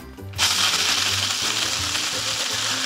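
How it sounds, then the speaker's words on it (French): A small food mixer whirs loudly and steadily while blending crumble ingredients, starting abruptly after a brief quiet moment and running continuously with a faint low rattle throughout. "de les mettre dans notre petit mixeur et de réaliser une sorte de petit crumble"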